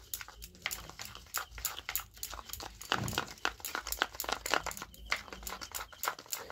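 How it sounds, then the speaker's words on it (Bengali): Plastic bag being crinkled and squeezed to mix a fruit face pack with a spoon each of sugar and gram flour, giving close, irregular rustling and crunching bursts that continue throughout. "ভালো করে মিশিয়ে নেবো এই ব্যাগটাকে।"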